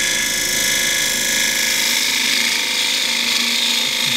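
Wood-turning gouge cutting a cross-grain wooden box on a lathe, a steady close rasping hiss from the tool with a continuous mechanical whir underneath, unbroken for the whole stretch.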